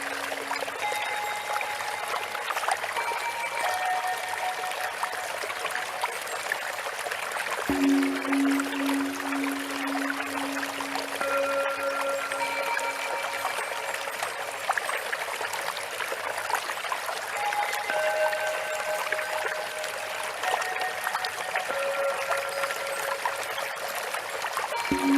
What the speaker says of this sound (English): imagine you're in a garden where there is a free flow of waterfall